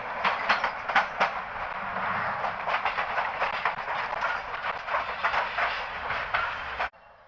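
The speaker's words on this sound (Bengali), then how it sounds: "ট্রেনের চাকার শব্দ টকটক টকটক" Train wheels clattering over rail joints on a passenger train heading from Dhaka toward Cox's Bazar, a steady rhythmic clickety-clack with repeated sharp knocks, close and loud throughout, cutting off abruptly near the end.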